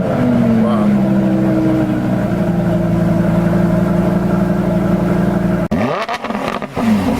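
A Lamborghini Huracan LP 580-2 sports car engine runs loud and close with a steady idling drone, then snaps into a sharp rev whose pitch sweeps up near the end.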